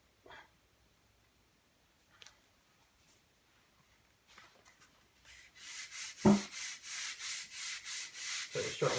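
Rhythmic back-and-forth rasping of 100 grit sandpaper on a wooden Sheridan Blue Streak air rifle stock, starting after a few quiet knocks and handling sounds, then a sharp thump before steady strokes build in the second half.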